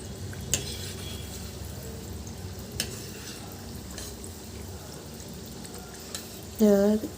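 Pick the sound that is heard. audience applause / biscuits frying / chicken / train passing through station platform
biscuits frying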